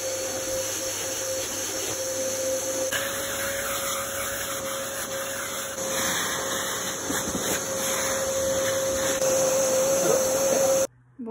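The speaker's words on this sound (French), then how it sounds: "Je vais faire chauffer l'aspirateur de chantier." A construction-site vacuum cleaner drones steadily and loudly with a high whine and constant airflow rush for about eleven seconds, then cuts off abruptly near the end.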